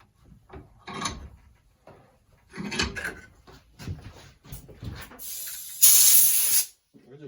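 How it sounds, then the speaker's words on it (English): Compressed air blows onto a metal file to clean it, a loud sharp hiss lasting under a second that follows scattered handling knocks and scrapes. "We'll just take a little bit of compressed air and just clean the file off."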